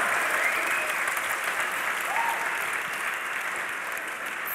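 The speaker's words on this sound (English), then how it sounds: "Let's give a cheer for Lee Sin and Annie" An esports crowd at a League of Legends DreamHack finals match cheers and applauds steadily, a dense, loud wash of clapping and voices sustained throughout without a break.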